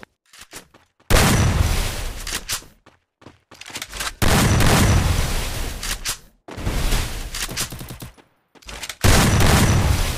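Bursts of rapid gunfire in the mobile shooter game Garena Free Fire, loud and close, with sharp volleys separated by short silences and no talking.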